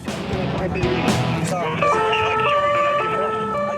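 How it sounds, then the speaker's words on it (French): A police car siren wails loudly during a high-speed chase through Paris, with rising and falling tones sounding over road traffic noise and voices. "Toute sirène hurlante, le policier fonce à toute allure."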